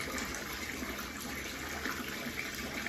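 Water gushes steadily into a backyard pool, a continuous close rushing and splashing without pauses.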